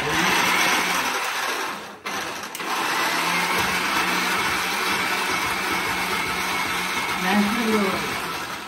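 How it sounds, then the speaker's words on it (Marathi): A kitchen mixer grinder whirs loudly and steadily while making a paste, its motor drone dipping briefly once before resuming; voices talk faintly beneath it. "पहिले मिक्सरला लावून घेतो मी आणि त्याच्यानंतर बनवतो."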